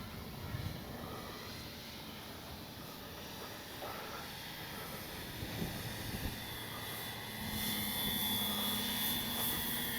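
A radio-controlled B-25J model airplane flies in windy conditions, a faint, steady engine drone and hiss carried from a distance that swells slightly near the end, with no voices.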